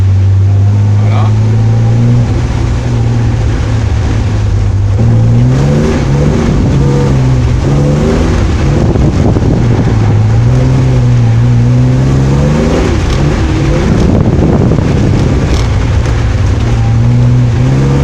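A drift car runs on a track at Ladoux, its engine revving and surging in repeated bursts up close. Someone talks steadily over the engine noise.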